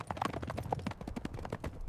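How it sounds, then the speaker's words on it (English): Horses in a cavalry charge travel steadily over uneven ground on the southern plains, their hooves producing a dense, continuous clatter of overlapping clip-clop beats with no voices. "Horses moving steadily across uneven terrain."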